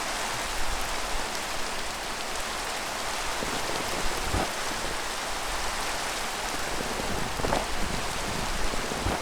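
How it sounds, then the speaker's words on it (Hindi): Rain falls at night in the Minecraft video game, a dense, constant patter and wash that holds steady for nine seconds with no speech over it. "क्योंकि बारिश भी हो रही है।"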